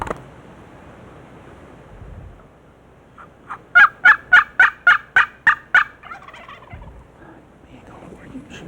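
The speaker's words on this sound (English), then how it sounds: "Hearing a gobbler halfway up the steep mountainside" A wild turkey gobbler on a steep mountainside during spring hunting season lets out one loud, rapid rattling gobble of about eight quick pulses. Quiet outdoor stillness surrounds it.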